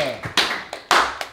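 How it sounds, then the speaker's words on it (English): An audience gives a short round of applause, a few sharp, uneven claps in quick succession, fairly close and loud, with some voice in the background. "Give it a round of applause."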